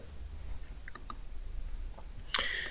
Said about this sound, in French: Et je clique sur fermer.